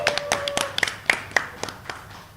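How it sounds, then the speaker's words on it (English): A live commentary audience for a FIDE World Cup chess broadcast claps and cheers for Divya, with sharp, uneven hand claps ringing out in quick bursts at close range. "I think one loud cheer for Divya once"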